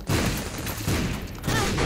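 Dense, continuous popping blasts of explosions from The Binding of Isaac video game, loud and busy throughout with a few louder bursts near the end.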